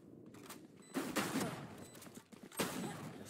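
Shots from a Judge shotgun in the tactical shooter Valorant, several sharp blasts over a busy, noisy game mix at fairly low level, without speech.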